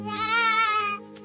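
A single goat gives one sustained, wavering bleat, fairly close and clear, lasting about a second before fading out.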